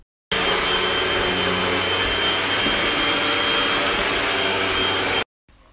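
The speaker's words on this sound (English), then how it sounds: "We're gonna vacuum." Vacuum cleaner running on a rug, a loud continuous close-up roar that starts abruptly, holds steady for about five seconds, then cuts off, with no talk.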